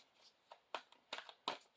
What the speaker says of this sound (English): it's so hard to shuffle.